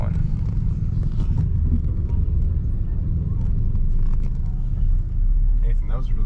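Inside a taxi on a long ride toward a hotel in Badian, the car's engine and road noise rumble loudly and steadily, with people talking over it.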